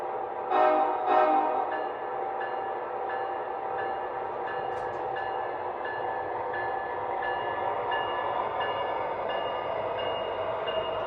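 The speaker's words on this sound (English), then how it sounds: "We'll go ahead and fire it up, get it out of the tunnel" An MTH Conrail ES44 model train locomotive rumbles steadily, with two short horn blasts near the start and a continuous tonal engine hum throughout.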